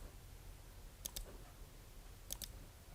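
Two quick pairs of sharp mouse clicks, around one second apart, while heart-shaped curves are traced out for a Valentine's card; close, crisp and alone over a faint room hum.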